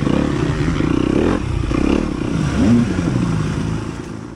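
Dirt bike racing in a harescramble near Stanton, Alabama, its engine droning loudly and close with a rough, buzzing tone that swells as it passes, without talk.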